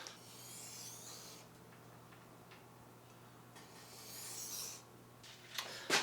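A butter knife rubbed against an 8000 grit sharpening stone gives faint, soft scraping strokes over a low steady hum, with a few brighter, louder swipes toward the end.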